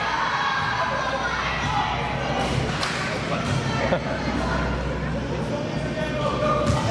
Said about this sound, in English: hustle shown by Leong Chi-ho right there, as everyone in the arena applauds the hustle by the Whoopsie Wednesday star.